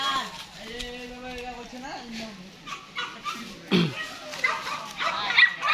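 German shepherd puppies about two and a half months old yip, whimper and give small barks in a lively cluster, with a person talking nearby through much of it.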